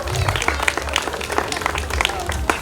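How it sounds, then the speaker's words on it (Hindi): Applause from guests at a morning wedding haldi ceremony: a dense, steady burst of hand clapping from a crowd, fairly loud and continuous throughout the short stretch. "जोरदार तालियां होनी चाहिए।"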